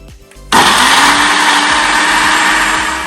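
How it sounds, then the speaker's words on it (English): A blender blending chicken satay topping starts abruptly and whirs loudly and steadily, a high grinding motor sound that runs without pause. "Sekarang aku mau blend dulu."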